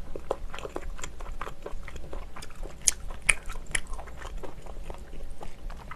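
Close-up wet chewing of steamed scallops, the soft bites and squelches repeating in an irregular rhythm. A few sharper crunches and clicks stand out, with no talking.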